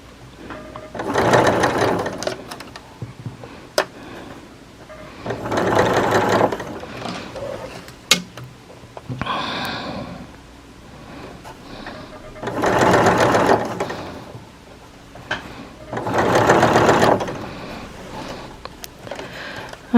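A sewing machine stitches a fold of linen for a shirt in several close, loud bursts of rapid whirring, separated by short pauses with small clicks and handling noises.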